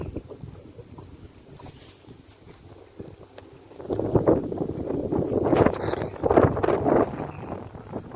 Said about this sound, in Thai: ลมแรงตีหัวเรือวน